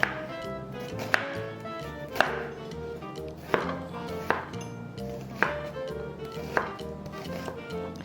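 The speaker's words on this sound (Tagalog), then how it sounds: "So ihahati ko lang siya sa strip na cut." Knife chopping white onion into thin strips on a board, with regular sharp cuts about once a second over a low steady background, no talk.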